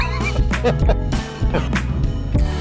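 A horse neighs and snorts close by, with bursts of excited shouting mixed in.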